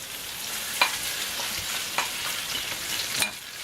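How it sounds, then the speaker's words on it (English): Vegetables sautéing in a pan, a soft steady sizzle with a few brief sharper clicks of stirring, close and fairly quiet, with no talking. "put the vegetables in here so we can saute them"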